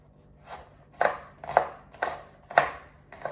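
A knife chopping onions and vegetables on a cutting board for Cajun pasta, with about six firm, evenly spaced strokes close up and no talking.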